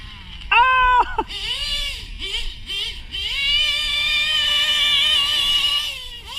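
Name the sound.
RC car engine screaming, slipping in the back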